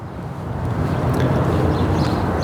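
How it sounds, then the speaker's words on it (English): Steady wind roars and buffets the microphone throughout, a constant low rushing that grows slightly stronger after the first second. "it's windy again."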